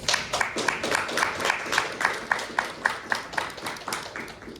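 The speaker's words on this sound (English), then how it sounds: "Give our panelists a round of applause." Rhythmic, even applause from an audience at a congressional briefing on diversity, equity and inclusion, steady sharp claps filling the room for several seconds with no talking.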